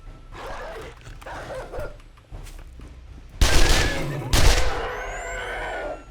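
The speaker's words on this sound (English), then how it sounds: "zombie dog, where are you?" Gunfire bursts and a zombie dog's barks in the survival video game 7 Days To Die, with muffled game noise building to two loud close blasts and a lingering ringing tail.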